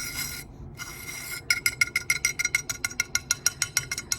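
Rocks being ground into pigment give a gritty, rasping scrape, first in smooth strokes, then in about twenty quick rhythmic rubbing strokes, close and moderately loud with no talking.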